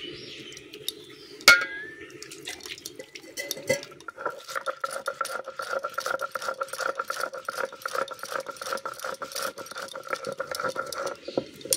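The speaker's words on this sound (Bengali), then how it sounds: "চলুন এগুলো এবার বেটে নিই।" Whole cumin, coriander seeds and ripe garden chillies are ground into a paste, with a clatter as the seeds drop in, then a steady rattling, whirring grind that continues evenly for several seconds.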